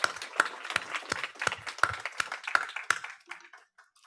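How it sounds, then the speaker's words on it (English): Sparse, rhythmic clapping from a small audience at a San Diego kickoff event, individual hand claps standing out clearly before thinning and fading away after about three seconds, with no talking. "That deserves a round of applause."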